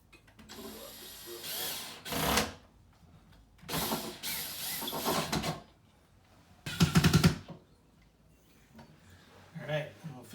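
Screws being driven to mount industrial pipe shelf flanges onto a wall, heard as three bursts of whirring, ratcheting power-driver noise up close, separated by quiet gaps with faint voices between them.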